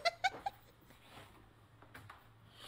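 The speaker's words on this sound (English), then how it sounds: "Oh, kitty!" A cat gives a few short meows at the start, fairly close and clear, then fades under faint room noise.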